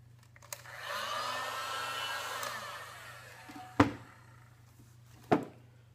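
Heat gun blowing hot air for removing badges from a 2001 Dodge Ram second-gen truck, a steady soft whoosh for a few seconds, then two sharp knocks close by.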